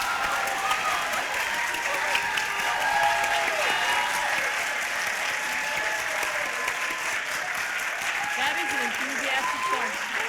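Audience applause at a startup venture competition finale celebrating award-winning ventures, a steady, dense clapping that fills the room continuously for about ten seconds with some crowd murmur mixed in.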